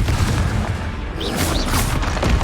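In Hogwarts Legacy, a Confringo blasting spell goes off as a deep booming explosion, a continuous dense rumble with crackling bursts layered on top, loud and close.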